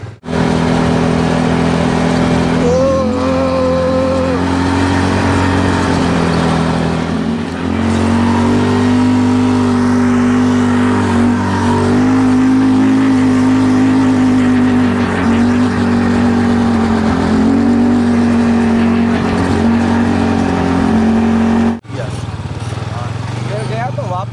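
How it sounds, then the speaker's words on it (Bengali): A motorcycle rides across the sand dunes of the Thar desert near Jaisalmer, its engine droning loud and close with a steady, throaty note that rises and dips slightly before cutting off near the end. "এবার আমিও চালাচ্ছি এই বাইক"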